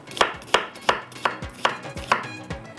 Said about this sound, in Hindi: यहाँ पर मैं कटिंग करके प्याज इसमें डालती हूँ।